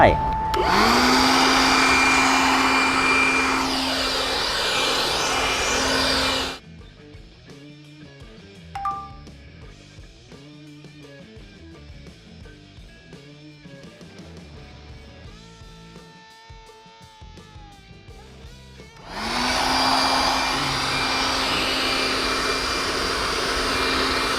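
An INGCO 20V cordless leaf blower roars with a loud, steady whoosh, runs for several seconds, cuts out to a quieter gap, then starts up again just as strongly.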